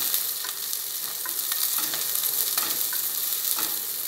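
Beans sauté in hot oil in a pan, giving a steady, faint crackling sizzle broken by light occasional stirring scrapes, with no one speaking.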